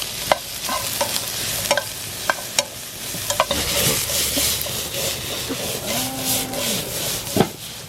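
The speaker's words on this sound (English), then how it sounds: "We're gonna try to caramelize the onions to bring out the diabetes, the sugar, make it caramelized" Onions caramelizing in a pan with olive oil, a steady sizzle broken by repeated scraping and stirring knocks of a utensil, up close and fairly loud throughout.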